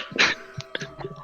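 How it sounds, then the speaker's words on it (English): A single short cough near the start, followed by faint throat noises; quiet and close. "Cough, cough."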